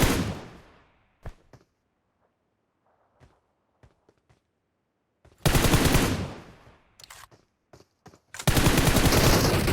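Automatic gunfire in PUBG Mobile: a couple of sharp isolated shots and faint footsteps, then two loud sustained bursts of rapid fire close by, with no talk.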